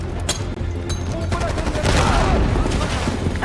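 Gunfire during a firefight in Call of Duty Black Ops 6, with loud, rapid overlapping bursts of automatic fire and heavy booms that grow denser midway through.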